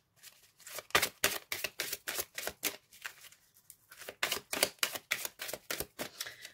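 Tarot cards being shuffled by hand in quick bursts of crisp riffling clicks, two runs of rapid flicks separated by a brief pause, close and alone.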